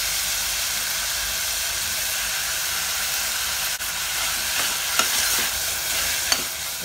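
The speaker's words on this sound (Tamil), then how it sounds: "கொஞ்சம் வதக்கிட்டு தக்காளியும் அதில் ஆட் பண்ணிடலாம்." Tomatoes sautéing in a pan with salt while making chicken soup give a steady hiss and sizzle, with a few sharp clicks from stirring near the end; no one speaks.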